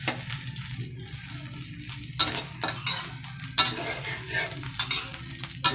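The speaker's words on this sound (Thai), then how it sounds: "ผัดพริกแกงให้หอมน้ำมันนะครับ" Thai vegetarian (jay) curry paste stir-fried in oil with fried tofu gives a steady close sizzle, broken by repeated scraping spatula strokes against the pan and a few sharp clinks, with no talking.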